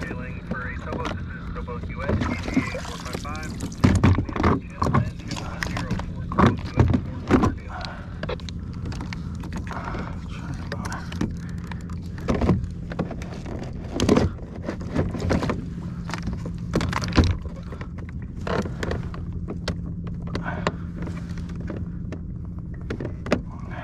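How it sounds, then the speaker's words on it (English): A Bixpy J-2 electric motor drives a Pelican pedal kayak on the water, giving a steady low drone under sloshing water, scattered bumps and knocks, and occasional talking. "Let's try the motor."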